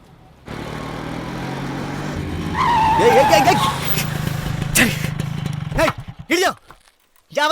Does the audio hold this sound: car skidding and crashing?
yes